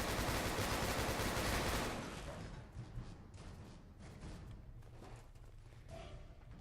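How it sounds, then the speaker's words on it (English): Loud gunfire in Fallout 4, a dense burst of shots for about two seconds that then drops to quieter, scattered shots and thuds. "Man, this gun's loud."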